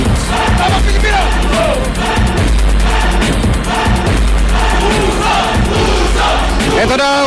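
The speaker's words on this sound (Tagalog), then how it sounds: "The crowd inside the Mall of Asia Arena is ready to cheer for Team Pilipinas." A packed Mall of Asia Arena crowd roars for Team Pilipinas before the FIBA Asia Championship basketball final against Iran, a loud, sustained wall of cheering and shouting that never lets up.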